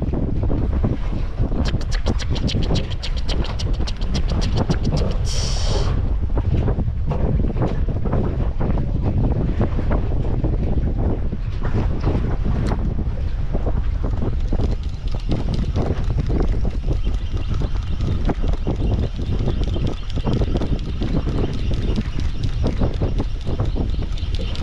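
Strong wind buffets a small fishing boat out at sea off Semarang during the west monsoon season, a loud constant roar of gusts over the microphone mixed with water and hull noise, with no voices.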